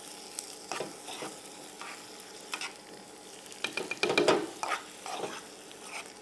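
Asparagus in a hot pan with a big blob of cream cheese and truffle, stirred gently over lowered heat: soft scraping strokes and light sizzle, with a brief busier cluster of clinks partway through.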